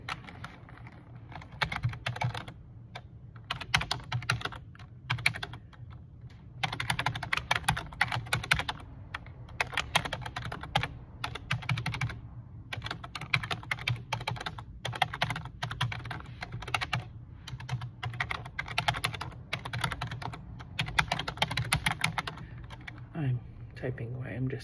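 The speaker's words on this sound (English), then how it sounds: "Typing away." Steady typing on a computer keyboard in an office, rapid irregular key clicks running almost continuously close by, with a low hum and occasional voice beneath.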